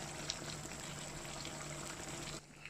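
A pot of sautéed broth (ginisa) boiling hard, bubbling and seething in a steady, dense hiss with a constant low hum beneath, close by and with no talking.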